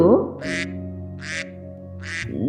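Three short nasal quacks at even intervals over a low tonal background, with brief voice-like sounds at the start and end.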